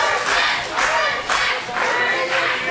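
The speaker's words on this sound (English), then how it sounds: "Well, the crowd seems to like it." A wrestling show crowd cheering and yelling in a large venue, with loud waves of massed voices that rise and fall across a few seconds and no single speaker standing out.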